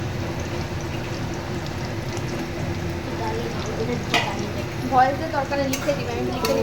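Garlic and onion go into oil left over from frying chicken pakoras, for chili chicken. A low, steady sizzle runs throughout, and a few clinks and scrapes of stirring come near the end.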